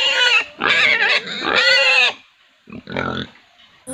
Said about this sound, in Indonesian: Itu namanya babi.